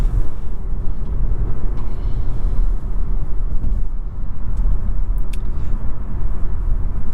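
Inside a 2020 Buick Encore GX on the move, a steady low road rumble and tire drone fill the cabin continuously, with faint creaks and ticks over bumpy pavement and no talking.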